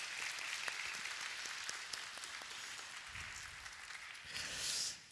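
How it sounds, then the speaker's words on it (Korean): A church congregation at a worship service applauds the Electone organist, a full, close burst of many hands clapping steadily for several seconds before tapering off. "우리 은혜로운 연주를 해주신 우리 김지연 연주자님께 다시 한번 감사의 박수 보내주시면 감사하겠습니다."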